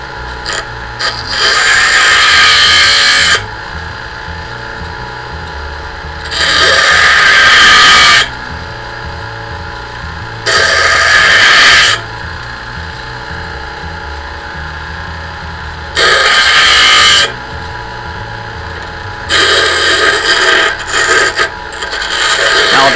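Power tool grinding the corners off a metal slingshot flechette, heard as several bursts of harsh abrasive grinding separated by quieter gaps, close and loud.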